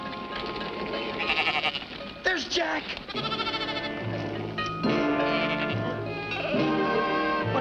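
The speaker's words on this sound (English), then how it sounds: "get your sheep off of our lawn" Sheep bleat in wavering, rising calls across a lawn, mixed in with music and voices talking.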